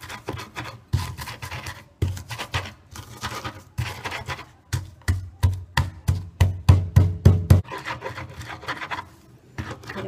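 Garlic ground with a little salt into a paste, a rough rasping rub repeated in steady strokes that grow quicker and more regular, then stop near the end, close and fairly loud.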